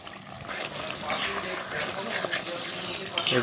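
Chicken bhuna cooking down in an open pan, a steady wet sizzle and bubbling with a couple of scraping stirs, close by, with a voice talking faintly over it.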